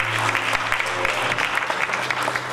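A church congregation claps for Jesus during a worship service, a dense continuous patter of many hands filling the room at steady loudness, with faint voices mixed underneath.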